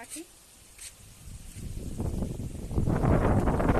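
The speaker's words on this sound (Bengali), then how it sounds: "ভীষণ হাওয়া দিচ্ছে আজকে" Strong pre-storm wind blows around backyard mango trees, starting faint and building into loud, rough gusts that buffet the microphone.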